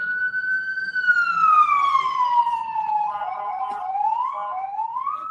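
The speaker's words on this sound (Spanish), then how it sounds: "disculpen que pasó por aquí una ambulancia" Ambulance siren sweeping past outdoors, a loud continuous wail that slides down in pitch as it goes by, then swings up again near the end.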